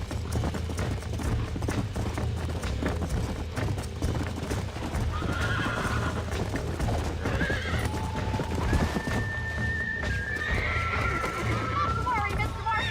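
A horse galloping in the video game Red Dead Redemption, rapid hoofbeats drumming steadily under game music and character dialogue, with several shrill whinnies rising near the middle and end.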